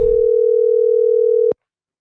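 A telephone line tone plays while a call is being placed, a single steady, loud continuous tone lasting about a second and a half before cutting off abruptly into silence.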